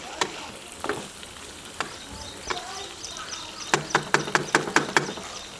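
Chicken sizzles and fries in a karahi, with soft crackling, a few scattered spoon knocks and then a quick run of sharp clacks as it is stirred and turned, fairly close and moderately quiet.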